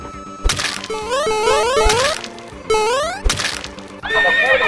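Repeated sharp horse neighs with rising, whinnying pitch sweeps, loud and close, punctuated by thumps and cartoonish effects.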